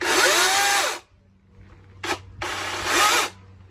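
A DeWALT cordless electric chainsaw whirs up close in two long bursts with a brief blip between, spinning up and winding down with a soft start.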